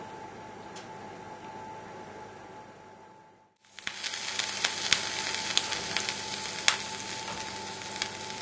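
Lamb kebabs sizzle under a hot grill with a steady crackling hiss that cuts out briefly, then returns louder with sharp pops and spits.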